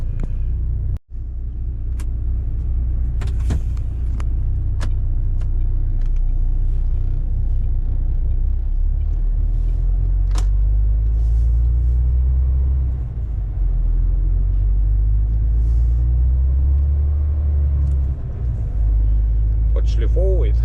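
A car pulls away and keeps driving, its engine rumble loud and close over road noise, with occasional clicks and knocks from the cabin.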